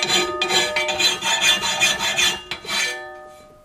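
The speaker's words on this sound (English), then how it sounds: "that's a lot of filing." Steel parts for a custom go-kart engine plate being hand-filed, a steady run of harsh rasping strokes close by that stops with a few scrapes near the end, no talk.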